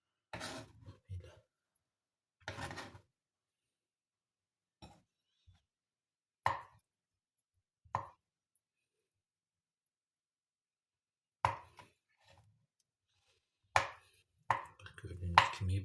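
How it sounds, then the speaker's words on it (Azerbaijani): Boiled eggs being chopped with a knife on a board for a broccoli salad, a few sparse, separate cuts and taps with long quiet gaps between them. "Gördüğünüz kimi bu şəkildə yumurtalarımızı doğrayırıq."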